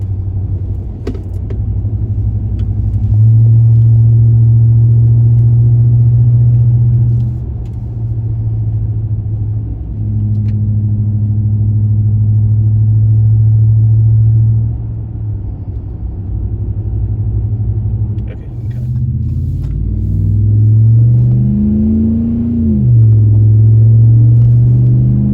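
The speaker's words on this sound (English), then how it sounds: "so you can hear the exhaust notes." A RAM Rebel pickup truck with its muffler and resonator deleted rumbles with a deep, loud, steady exhaust drone while driving, swelling and dipping with the throttle and climbing in pitch as it revs near the end.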